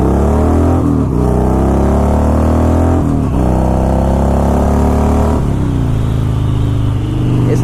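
An old Harley-Davidson Dyna Glide motorcycle pulls uphill, its V-twin engine rumbling loud and close with rising revs broken by a few brief gear changes, and no talk.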